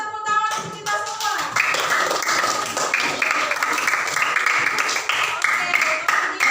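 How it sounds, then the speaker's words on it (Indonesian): Schoolchildren in a classroom clap their hands together in a busy, uneven burst of tapping claps, with a voice or tone audible at the start and chatter mixed in. "tepuk tangan untuk kita semua"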